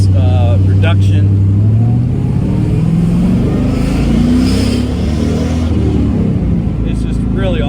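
A 5th gen Camaro SS driving with a low, deep muffler tone, a steady engine rumble that rises in pitch as it accelerates, continuous and close from start to finish.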